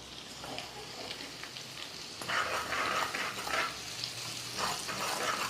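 Kashmiri red chili powder and turmeric hit a pan of already fried chilies, ginger and garlic, giving a close, steady sizzle with scraping stir strokes that swell midway, and no talking.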